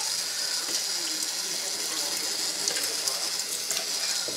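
Water rinses a Sony VAIO VPCL13M1E motherboard, a steady broadband splash and hiss of running liquid that stays fairly even and close, with small crackling bursts throughout and no voices.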